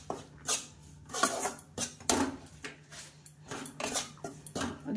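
Semolina and rice flour roasting in a pan, stirred with a utensil in a steady rhythm of scraping strokes, close and moderately loud with no talking.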